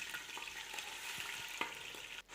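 About one and a half kilos of chicken fries in hot oil for a Peshawari Shinwari karahi, giving a dense, steady sizzle with faint stirring clicks close by.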